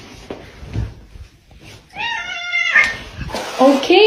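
A cat meows loudly and close by in a drawn-out, complaining cry, then lets out a second strained wail after some soft indistinct sounds at the start.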